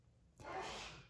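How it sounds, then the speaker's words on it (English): A person sneezes once in another room, a single muffled burst rising after a quiet moment and trailing off, distant and fairly soft. "In the other room, sneezing."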